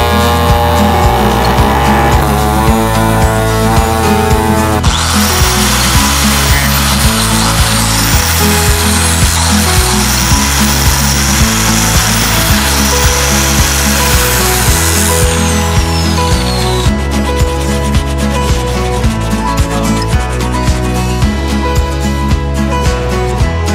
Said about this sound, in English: So I'm gonna go ahead first and cut this off just to give us enough clearance to turn with these.